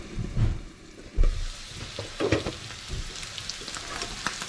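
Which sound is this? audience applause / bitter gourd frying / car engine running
bitter gourd frying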